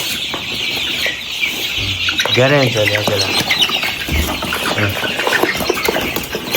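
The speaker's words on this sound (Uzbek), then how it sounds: "Mana 2 oylik jo'jalarimiz" Two-month-old chicks crowded at a poultry sales spot chirp and cluck in a busy, continuous chorus, with someone talking over them throughout.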